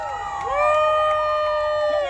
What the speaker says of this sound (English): Cheer for DragonCon.